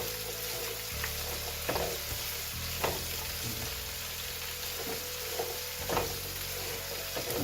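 One and a half whole heads of garlic fry in a pan with a steady sizzle and crackle throughout, occasional stirring scrapes, no talk.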